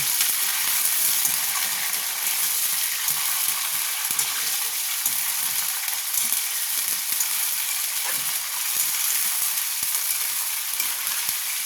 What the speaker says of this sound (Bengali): চিকেনটাকে একটু ভালো করে ভেজে নেব।